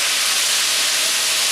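Potatoes stir-fry in a hot pan with a steady, loud sizzle and hiss that holds evenly throughout.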